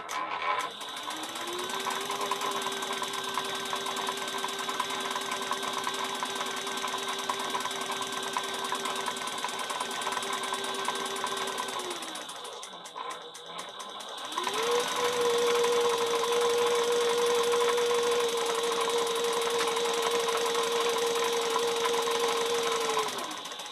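A sewing machine stitching a travel bag runs in two long steady bursts of whirring, separated by a brief pause near the middle, close and loud with no talking.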